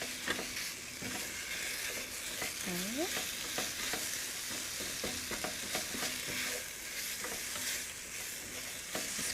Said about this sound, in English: I'm going to finish browning up this meat here